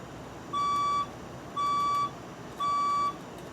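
Three identical electronic alarm tones from a building fire alarm test, each a steady pitched beep about half a second long, evenly spaced about a second apart over a low background hum.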